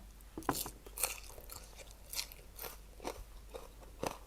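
Close, crunchy chewing of food eaten with a spicy carrot chili dip, a series of distinct bites and crunches recurring about every half second over a quiet background.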